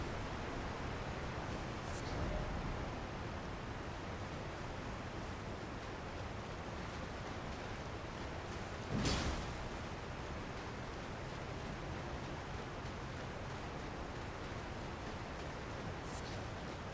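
A waterfall rushes steadily in Elden Ring Shadow of the Erdtree, a constant dense roar filling the whole stretch, with a brief louder splash or hit around the middle and no talk.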